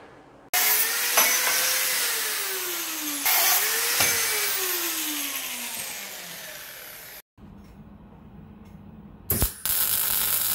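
Flat steel bar, 30 mm wide and 4 mm thick, is cut into 100 mm pieces. Two loud, harsh cutting runs have pitch that sags under load, followed by a brief clatter and another short burst.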